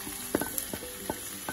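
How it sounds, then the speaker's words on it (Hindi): Mutton pieces frying on high heat for a curry with tomato, a constant loud sizzle punctuated by sharp spatula scrapes every few tenths of a second. "4 से 5 मिनट हम इस मटन को तेज आंच में भूनेंगे।"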